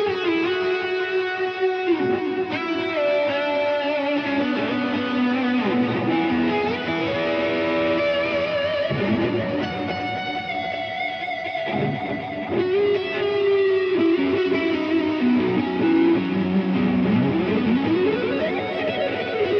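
Electric guitar played through a distortion preset on a Digitech RP1 effects unit, sustained and heavily compressed chords and melodic lines ringing continuously and loud, with no talking.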